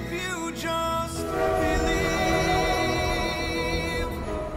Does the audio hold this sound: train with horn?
yes